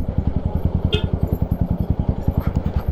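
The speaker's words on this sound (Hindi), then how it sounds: "पहले बाइक लगाते हैं साइड," A motorcycle on a ride from Delhi to Devprayag in Tehri Garhwal, pulled over to the roadside, its engine thumping in a steady, rapid, close and loud rhythm throughout.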